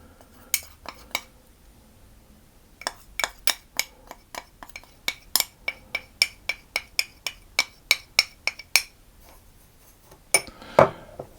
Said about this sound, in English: I want to stir it around to get it mixed into the sugar